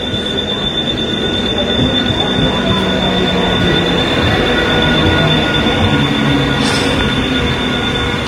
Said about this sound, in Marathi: तर मित्रांनो आता ट्रेन आले आहे, तर आपण ट्रेन पकडूया.